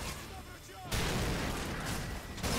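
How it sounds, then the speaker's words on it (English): A red explosive barrel blows up in Modern Warfare 3 Spec Ops, a sudden loud broadband boom that cuts in and sustains a dense rumbling roar amid gunfire, with a faint voice early on. "the red barrel keep blowing up and killing me"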